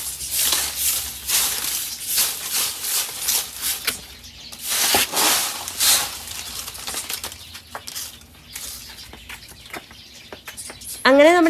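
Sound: pet bird chirping

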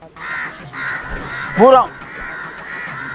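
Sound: crow cawing

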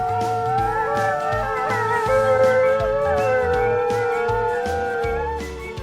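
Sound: wolf howling

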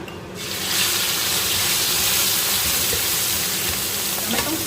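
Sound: pounded tamarind chili paste stir-frying in hot oil

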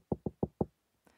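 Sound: knocking on a door

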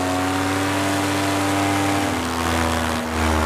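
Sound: paramotor engine throttling up to climb

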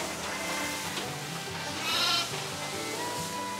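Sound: sheep bleating on a Dorper sheep farm

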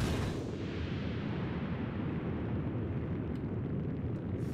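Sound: explosions in video game Octodad: Dadliest Catch

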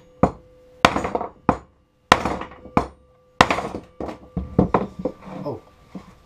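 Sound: hammering on a bench

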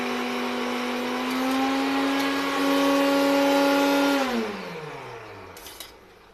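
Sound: mixer grinder (mixie) running

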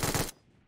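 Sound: 7.62 rifle firing rapidly in video game PUBG Mobile

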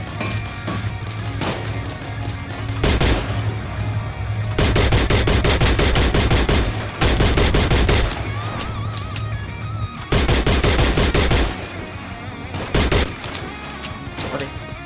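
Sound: gunfire in the video game Free Fire

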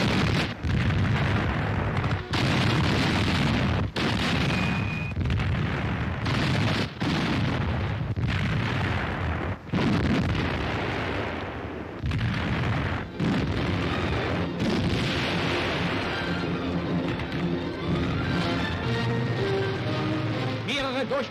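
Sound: artillery fire from self-propelled guns under enemy fire

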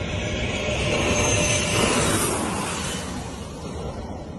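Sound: jet aircraft landing, spraying dirt

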